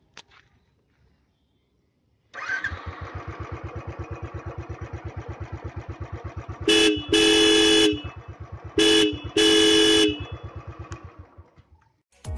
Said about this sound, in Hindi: गाड़ी का हॉर्न सुनना चाहेंगे?